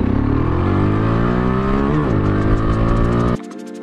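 A Motorstar Explorer 250 v2 motorcycle with an upgraded ignition coil, RCDI and spark plug accelerates hard nearby. Its engine note climbs steadily, dips briefly at a shift, climbs again, then cuts off abruptly near the end.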